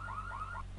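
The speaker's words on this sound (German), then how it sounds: "hier läuft sogar die Alarmanlage" A car alarm wails from GTA III, its electronic tone sweeping up and down in quick repeated cycles, steady and fairly near over a low engine hum.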